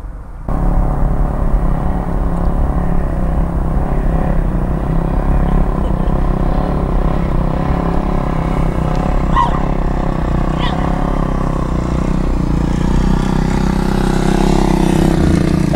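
A dirt bike engine revs continuously at mid distance while the bike rides back toward the listener, a steady loud drone that swells slightly near the end, with a faint broadband rumble beneath.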